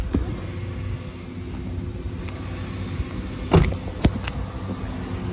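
A 2013 Honda Fit with about 91,000 miles idles after starting, a low steady engine hum heard up close, interrupted by a couple of brief clicks or knocks.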